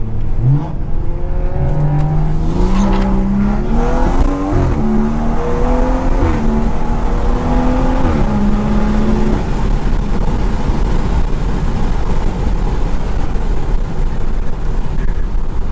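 A clean blacked-out BMW 340i drives along, its engine note rising and falling through gear changes over steady road and tire rumble, loud and close with no talking.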